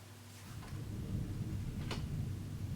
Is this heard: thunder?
yes